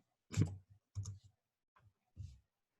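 A few isolated taps on a computer keyboard land in four short, separate bursts, quiet and close against near silence, with no speech.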